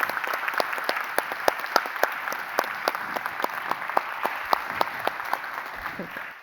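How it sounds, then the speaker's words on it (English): An audience at a public session of a world cultural cities summit gives its panel a round of applause, sustained, even clapping with distinct sharp claps near the front, fading slightly at the very end. "Round of applause for our panel, and thank you all for coming."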